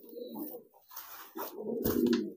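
A young pigeon coos in courtship, giving a few low, throaty rolling coos with short pauses between them, heard close and on its own.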